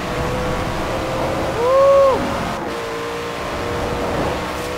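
A Koenigsegg One engine in the video game Forza Horizon 4 hums steadily, rising briefly in pitch as it revs up, then settling back to a constant drone.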